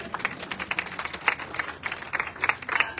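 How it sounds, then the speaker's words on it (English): A room full of people claps in a loose, uneven round of applause, with sharp individual claps standing out from the crowd, moderately loud and without speech. "So give yourself a round of applause."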